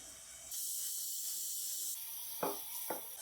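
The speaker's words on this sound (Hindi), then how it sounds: "ये देखिए अच्छे से बॉयल आ गया है।" A pot of water with fennel, green cardamom and ginger for chai at a rolling boil, giving a steady close hiss and bubbling rush with a couple of brief clinks near the end.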